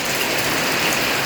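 Rain falling in a village, a brief steady hiss of drops on surfaces with no voices.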